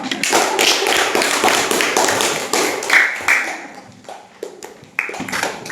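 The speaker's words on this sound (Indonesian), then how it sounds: "Iya, tepuk tangan." A classroom of students claps hands for a classmate, producing a burst of close, uneven individual claps that thins into scattered sharp claps toward the end.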